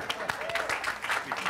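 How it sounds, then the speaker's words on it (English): A lecture audience breaks into brief, moderately loud applause, a quick scattering of hand claps, with someone speaking over the clapping. "applause for Jack."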